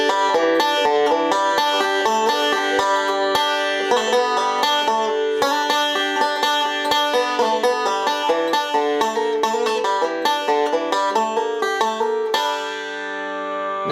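Banjo pull-offs within the first section of the bluegrass tune Standin' in the Need of Prayer: a fast, continuous stream of bright plucked notes for about twelve seconds, then a brief fading ring, played solo and close.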